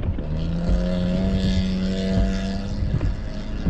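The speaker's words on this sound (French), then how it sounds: "le gars il s'est mis un muffler après son char, on dirait un scooter" An old Volvo car fitted with an aftermarket muffler revs nearby on a snowy street, giving a steady buzzy, droning engine note with a rising and falling pitch, loud and alone.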